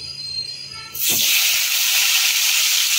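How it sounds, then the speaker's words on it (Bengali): Potato and pumpkin pieces dropped into hot mustard oil burst into a loud, sudden sizzle after a quiet moment, then keep up a steady bright hiss for the rest of the clip, close to the pan. "আগে আলু আর কুমড়োটা ভেজে তুলে নেব"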